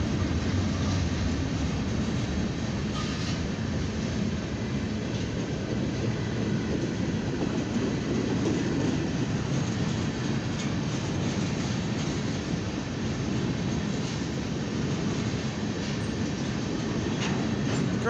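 A long CSX northbound coil freight train rolls through the Market Street crossing in Lima, a steady loud rumble of wheels and cars with faint rhythmic clacking and no talk.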